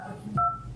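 A single short telephone keypad tone, a clean dual beep lasting a fraction of a second over faint background hum.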